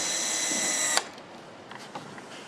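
A power tool drives screws into body parts on a BMW S1000RR motorcycle assembly line, whirring steadily for about a second, then stopping with a sharp click, followed by faint scattered clinks and factory clatter.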